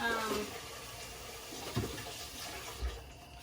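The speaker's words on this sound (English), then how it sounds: "I'm gonna rinse my hands." Running water from a tap while hands are rinsed in a home kitchen, a steady moderate splashing rush that continues for the whole clip, with a couple of soft knocks.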